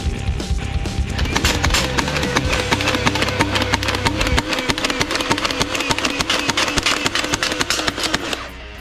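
A toy multi-barrel machine gun blaster fires in fast, rattling bursts over a whirring motor. The close, loud clatter keeps going for several seconds, and a lower droning hum fades out partway through.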